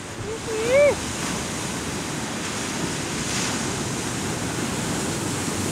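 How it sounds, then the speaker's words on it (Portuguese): Strong wind roars steadily past the microphone, a loud continuous rush with a brief whistling tone near the start. "Já ouviu ventania, Camila?"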